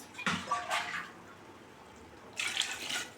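Two short bursts of water splashing and pouring into a pot of mutton biryani, separated by a quiet pause, close and moderately loud with no voices.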